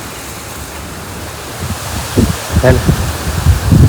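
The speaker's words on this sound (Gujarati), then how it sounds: "તડકો અને પવન કેટલો જુઓ, ખતરનાક પવન છે ને." Strong, gusting wind blows across an open outdoor spot on a sunny day before rain, making a broad, steady roar that swells toward the end. A voice speaks briefly under it.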